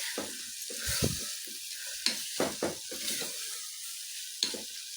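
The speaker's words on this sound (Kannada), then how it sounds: "ಎಲ್ಲ ನೀಟಾಗಿ ಮಿಕ್ಸ್ ಮಾಡ್ಕೋಬೇಕು ಎಲ್ಲ ಹಿಡಿತಾ ಇದೆ ಮಸಾಲೆ" Masala being stirred and fried in a pan for khushka rice, with a steady sizzle under irregular scraping strokes and a few sharper clanks of the spoon against the pan, close and moderately loud, no talking.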